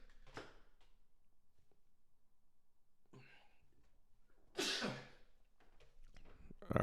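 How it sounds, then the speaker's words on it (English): A person sneezes sharply once, close to the microphone, amid quiet room noise and a few softer breaths and stirrings. "All right, I'm going to sneeze."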